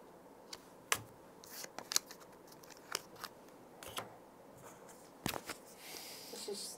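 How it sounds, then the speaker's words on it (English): Playing cards for the Dune board game are shuffled behind a screen, close and quiet. Crisp riffles and snaps come in irregular bursts, with soft rustling and a longer flurry of shuffling at the end. "I love watching two men shuffle cards behind a screen"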